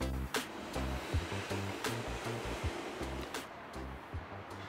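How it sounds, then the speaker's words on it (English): Homemade mead fermenting in a vessel a day after mixing gives a continuous frothy fizz with scattered sharper pops and gurgles from vigorous bubbling. "After a day or two, you should see a lot of bubbling activity"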